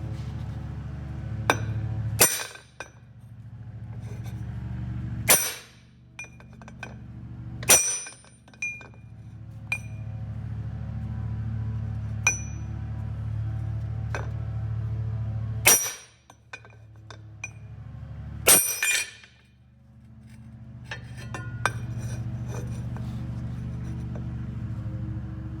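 Hammer blows drive a bearing out through a piece of square tubing, about half a dozen sharp metallic strikes spaced irregularly over a low steady hum, close and fairly quiet.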